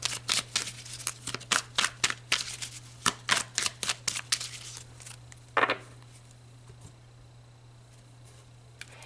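Tarot cards are shuffled in a quick run of crisp, close riffling bursts, then one card is drawn with a single soft snap before a quiet pause.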